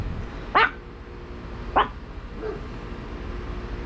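A dog gives two sharp barks a second apart, followed by a softer third yip, over a low steady background hum.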